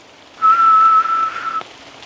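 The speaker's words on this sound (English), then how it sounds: "That was a whistle?" A single steady whistled note, clear and sustained for about a second, set against a quiet background hiss with no talking.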